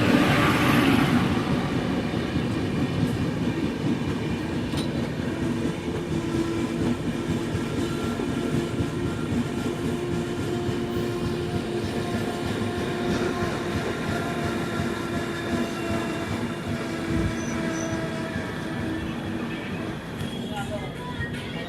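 Falaknuma Express train running after leaving Khurda Road Junction: a steady, loud rumble and clatter of wheels on rails heard from on board, continuous throughout with occasional faint squeals.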